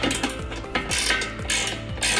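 A ratchet wrench tightens a bolt on a pickleball net frame, giving a steady series of close, loud clicking strokes in a regular rhythm.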